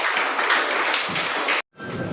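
A burst of applause from members of the Proddatur municipal council passing a resolution, dense clapping filling the hall for about a second and a half before stopping abruptly.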